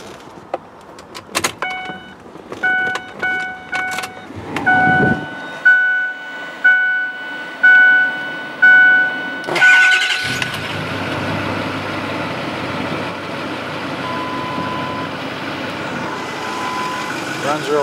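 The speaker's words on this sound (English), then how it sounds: "Let's start this up and see how it sounds." A black 2008 Ford F350 truck's engine cranks and catches after a series of electronic chimes, then settles into a steady, close, moderately loud idle that fills the rest of the stretch.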